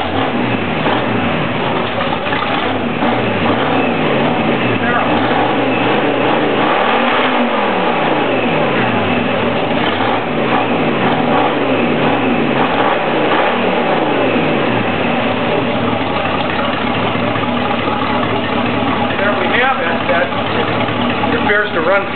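A marine 327 small-block Chevy V8 on a two-barrel carburetor runs loud and close, revving up and down in repeated swells before settling into a steady rough roar.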